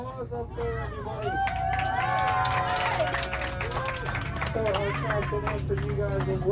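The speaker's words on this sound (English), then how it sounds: "Round of applause up there" Passengers aboard a jet boat on a Niagara Falls speed boat tour clap and cheer in a lively burst of crowd noise, with voices and shouts mixed in close by.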